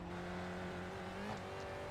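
Spec Racer Ford race cars in iRacing at Summit Point, a steady loud engine drone of several cars running close together, with pitch shifting slightly as gears and throttle change.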